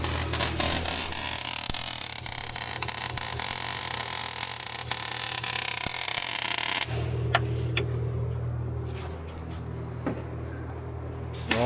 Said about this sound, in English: Zach's over here welding away